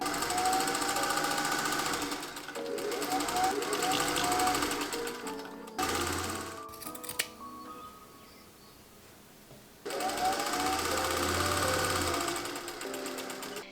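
Sewing machine stitching a French seam on a blouse in two long bursts of rapid, close mechanical whirring separated by a short pause with light handling clicks.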